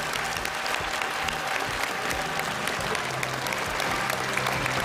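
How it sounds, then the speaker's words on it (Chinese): Audience at a televised gala celebrating the Shenzhen Special Economic Zone's 40th anniversary applauds the backstage crew, a loud, dense, sustained round of clapping from a large crowd. "在这里我们也一并把掌声送给这些幕后的英雄"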